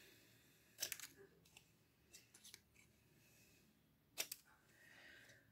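Scissors snip paper for a scrapbook banner, a few faint, sharp cuts spread out in a quiet room.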